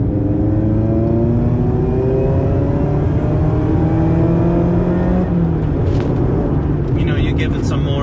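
A Mazda ND2 Miata fitted with an Edelbrock supercharger pulls hard under throttle, its engine note climbing steadily and loud inside the cabin, then easing as the revs drop near the end.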